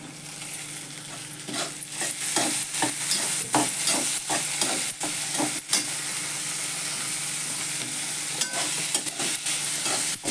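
Tomatoes sauté in a pan for a corn upma, a continuous sizzle with a spoon's scrapes and taps in an irregular rhythm, close and fairly loud with nobody speaking.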